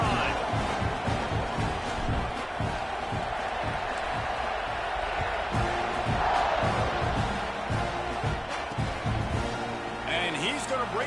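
A college football stadium crowd roars steadily during a kickoff, a dense, continuous wash of cheering and shouting with a play-by-play announcer talking over it throughout.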